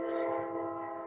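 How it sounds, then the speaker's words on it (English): A nearby train passing along a railway line, its horn blaring as a steady, loud multi-tone chord that holds throughout with a low rumble underneath. "Please excuse the train noise."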